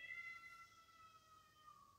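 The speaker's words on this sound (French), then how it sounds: "Merci pour cette intervention le chat." A house cat meowing in a quiet room, a single faint, drawn-out tonal cry heard on its own.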